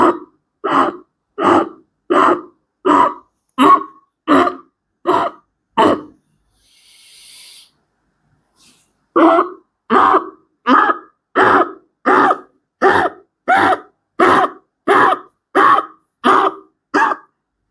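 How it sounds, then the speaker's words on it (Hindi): Ujjayi pranayama breathing done in short segments: a rapid, even train of forceful, throaty breath bursts close to the mic, one series, a brief pause with a soft hiss, then a second steady series. "आपको टुकड़ों में उज्जाई प्राणायाम करना है"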